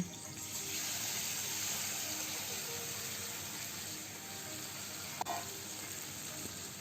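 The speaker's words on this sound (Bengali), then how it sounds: "এবার আমি মাখা মাছগুলো ঢেলে দেব।" Marinated chuno fish slid into hot oil tempered with black cumin and green chillies, a loud continuous frying hiss that holds steady throughout with one brief clink.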